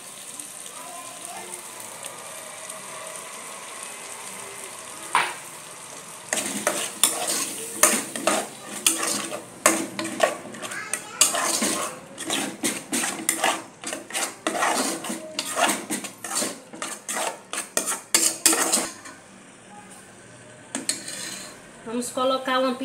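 Sausage lunch cooking in a single pot, a utensil stirring and scraping in quick, irregular strokes against the pot from about six seconds onward, with faint sizzling beneath and no talk.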